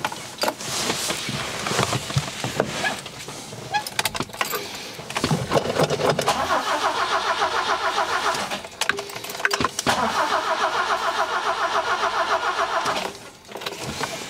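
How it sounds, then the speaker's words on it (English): A vintage 1968 BMW 1602 with a Weber carburetor cranks with uneven bursts, then catches and settles into a steady, close, rhythmic idle. The idle dips briefly once before running on, with a short drop near the end. "Let's go ahead and start the car up next and see what we got."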